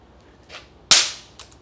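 A 1980s cap rocket toy fires its caps with one sharp, loud crack that decays quickly, preceded by a faint scuff and followed by a light tap.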